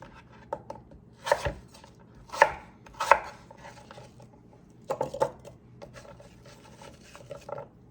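A knife chops through an apple on a cutting board, a series of uneven, sharp thuds in small bursts with quiet pauses between.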